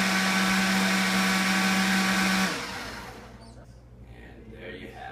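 A Ninja glass blender whirs loudly while blending bulletproof coffee with butter, then spins down after a couple of seconds into quieter background noise.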